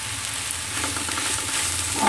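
Olives and tuna filling sizzling in a hot frying pan while being stirred for msemen-style flatbreads, a steady close crackle and hiss with soft scraping through the whole stretch.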